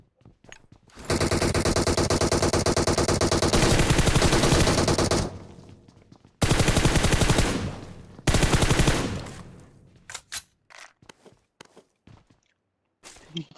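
Heavy automatic gunfire in PUBG Mobile, a long sustained burst followed by two shorter bursts, then scattered single shots and clicks trailing off, loud and close with no talk.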